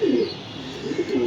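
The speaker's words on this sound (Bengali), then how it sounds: "নতুন রুমে কবুতর দিছি।" Pigeons coo in a loft room with new cages, where a few of this year's young birds have also been placed; soft, throaty coos come in short bursts near the start and end, close by, with no talking.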